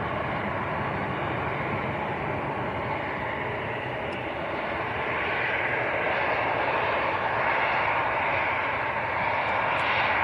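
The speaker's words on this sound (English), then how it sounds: "EasyJet lining up and ITA following as well" EasyJet and ITA airliners line up at Manchester Airport, their engines giving a steady, broad roar that holds throughout and swells slightly toward the end, with no talk over it.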